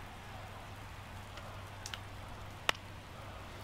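Rain falls during an extra-innings night of a baseball video game set in Washington, a soft, steady hiss of drops throughout with a couple of faint, brief ticks.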